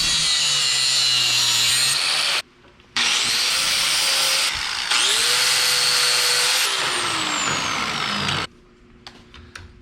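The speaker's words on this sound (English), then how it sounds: "We're gonna chop this, grind it down, and make it fit inside there" A power tool cuts and grinds down an old flathead wrench in a workshop, a loud sustained whine that stops briefly, restarts with rising pitch sweeps, then cuts out near the end.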